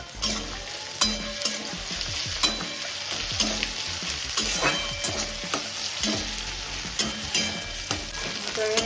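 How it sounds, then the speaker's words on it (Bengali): Green chilies frying in fat, likely goat fat, for a spicy small-potato aloo dum, sizzling steadily with repeated scrapes and clinks of stirring throughout, close and fairly loud. "ভালো করে ভেজে নেব"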